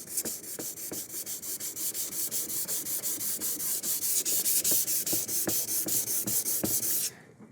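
A 3M P600 dry sandpaper on a sanding block rubs back and forth over a lacquer finish, a close, steady rhythmic scraping with even strokes about every quarter second, ending abruptly.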